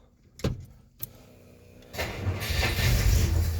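A Belvedere car sits in neutral while a couple of sharp clicks come first and then the engine cranks and catches. It settles into a loud, rising rev that holds close to the end.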